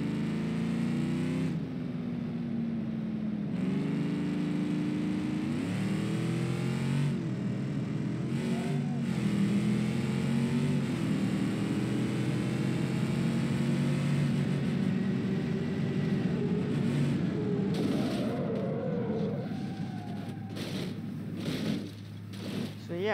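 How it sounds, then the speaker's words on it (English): A car crash in BeamNG.drive plays out in real time: a steady engine drone with rising and falling revs runs throughout, ending in a few short, broken impact sounds. "So now let's take a look at the same car crash"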